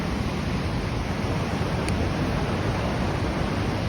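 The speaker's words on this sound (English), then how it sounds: "and the power of this water is incredible" Powerful rushing water pours steadily through a lock in downtown Akron at night, a loud, unbroken broadband roar with no pauses and no voices.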